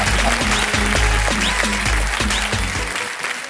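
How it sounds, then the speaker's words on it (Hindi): A studio audience at a Kaun Banege Crorepati taping breaks into loud, dense applause that holds steady before tapering off near the end, with no voices over it. "तालियां बज जाए"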